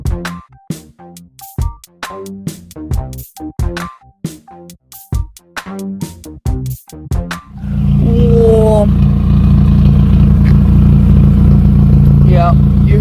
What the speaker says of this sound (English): Oh, it's still misfiring.